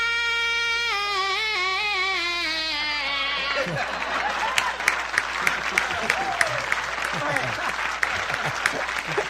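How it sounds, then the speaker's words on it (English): After several seconds of a sustained held vocal tone, a studio audience member on a radio talk show breaks into clapping, with crisp claps ringing out over crowd murmur and chatter. "Jimmy, stop Another clapping full moon. and smiling and Answering laughing."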